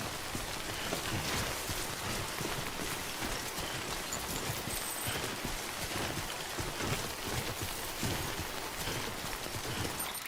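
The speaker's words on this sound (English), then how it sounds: "Come on, let's get out of the rain." Steady, dense rain falling in the video game Death Stranding, a constant hiss of drops on surfaces that continues alone and without pause throughout.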